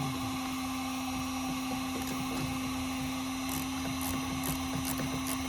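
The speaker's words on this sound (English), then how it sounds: "Probably didn't hear half of the things I said over the noise of that heat gun." A heat gun runs steadily through the whole stretch during a farm truck build, a loud, unbroken blowing hum with a sharp constant tone, broken only by a few faint taps and clicks behind it.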